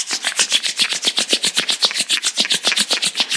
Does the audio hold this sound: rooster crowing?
no